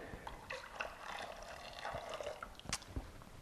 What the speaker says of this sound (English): then I'm going to pour this into the oils carefully